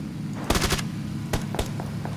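Gunfire in PUBG Battlegrounds during a squad match: bursts of rapid automatic shots, a cluster early on followed by scattered single cracks, moderately loud over low game ambience.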